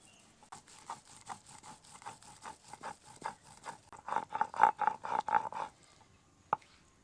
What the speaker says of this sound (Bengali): এবার আমি মশলাটা বেটে নেব জিরে সর্ষে আর আদা নিয়েছি